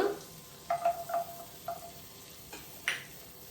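Chopped garlic and onion frying in melted butter in a pan for white sauce pasta, a faint steady sizzle under several light ticks and clinks of a spoon stirring against the pan, close and without talk.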